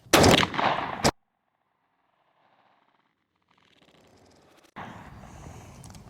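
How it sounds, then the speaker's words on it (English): A single loud, close shotgun blast from a Rossi turkey .410 fired at a pattern target 40 yards away, with Wilson Custom shells and an Indian Creek .385 choke, followed by a few seconds of near silence before louder outdoor noise returns. "We're shooting at 40 yards. Let's see how this bad boy performs."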